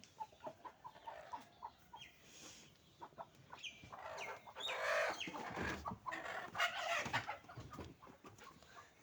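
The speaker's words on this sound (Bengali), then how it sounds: "গ্রামের বাড়ি আশেপাশে অনেক হাঁস মুরগি আছে এখন আমার সঙ্গে হাঁস মুরগি তো আবার কথা বলতে আছে আপনাদের সঙ্গে" Chickens cluck around a village house, with scattered short clucks and calls repeating near and far, some louder bursts midway, and no talking.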